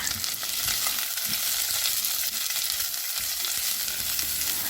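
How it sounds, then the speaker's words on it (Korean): Steady, crackling sizzle of sliced garlic and onion stir-frying in hot olive oil in a pot, continuous and close, with occasional soft stirring scrapes and no voices. "달궈진 냄비에 올리브 오일을 두르고 썰어 놓은 마늘과 양파를 넣고 볶아줍니다"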